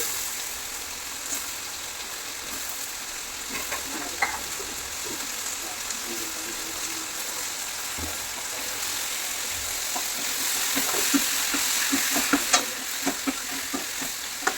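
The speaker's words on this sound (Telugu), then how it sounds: "ఇలా మంచిగా కలిపేసుకోవాలండి మంచిగా కలిసేలాగా కలిపేసుకోవాలి" Ridge gourd and potato curry sizzles in a pan while being stirred, a continuous frying hiss broken by scraping and clinking of the spoon that grows busier toward the end, with no talk.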